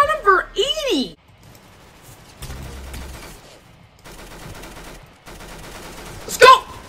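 Rapid bursts of gunfire from the Roblox shooter game Arsenal crackle in short volleys, with a loud final burst near the end, while someone talks excitedly between shots.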